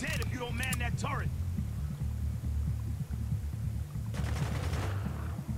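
Rapid automatic turret fire in the military shooter Spec Ops: The Line, a steady throbbing burst of gunfire running throughout, with shouted voices over it at the start and again near the end.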